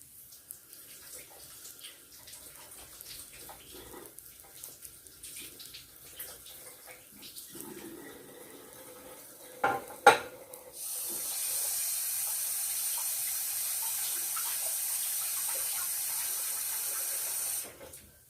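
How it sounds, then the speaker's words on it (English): A kitchen tap turns on and runs in a steady, moderately loud stream for hands being washed, after a quiet stretch of faint handling sounds and a couple of clunks. "let me wash my hands while we wait"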